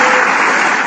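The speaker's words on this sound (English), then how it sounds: "Applause from the clapping seals in the room" A brief, loud burst of dense applause fills a room and continues unbroken, with no speech over it.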